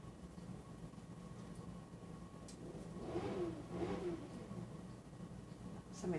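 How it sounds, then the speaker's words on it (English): Outside in a residential neighborhood, a motorcycle engine revs in a few distant, muffled surges that rise and fade under a steady background hum, with no one talking. "Somebody's out there racing a motorcycle. Just the engine, not actually racing it through the neighborhood."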